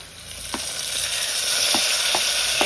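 Tomato goes into browned onions frying in a pan for a home-cooked Kerala fish dish, producing a loud, steady sizzle with a few spatula taps scattered through it.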